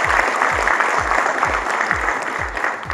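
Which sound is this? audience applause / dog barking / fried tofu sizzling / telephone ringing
audience applause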